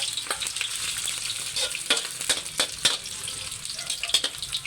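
Kikiam sizzles steadily as it fries in a pan for pansit bihon, with bright crackling bursts and a few sharper pops and spatters standing out over the continuous hiss.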